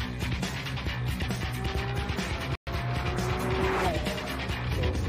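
A Lamborghini with modified suspension drives along, its engine a steady loud roar with road and tire noise heard from inside or close by, broken by one abrupt instant of silence midway.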